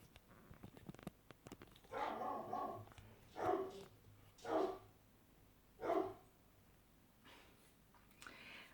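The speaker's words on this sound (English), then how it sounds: "my dog was barking" A dog barks four or five times in short separated bursts, fairly faint and somewhat distant, over a quiet indoor background.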